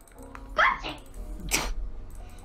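A dog barks and yelps a couple of times at close range outdoors, short sharp bursts with quieter moments between, over low background rumble.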